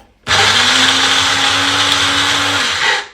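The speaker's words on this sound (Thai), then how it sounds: "นี่เหลือแต่เอาไปปั่นครับ" An electric blender whirs loudly and steadily for about three seconds, chopping herbs for a Thai chopped fermented fish dish, starting abruptly and running alone before stopping.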